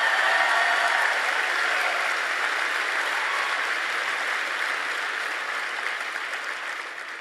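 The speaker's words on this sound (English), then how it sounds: "Why don't you guys go ahead and round of applause for yourself?" Audience applause at a campus tour event at Indiana University, a dense, steady wash of clapping that is fairly loud at first and slowly tapers off, with no talking over it.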